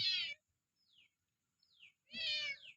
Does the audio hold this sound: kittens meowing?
yes